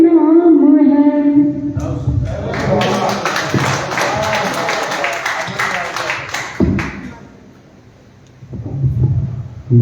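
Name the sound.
audience applause at poetry evening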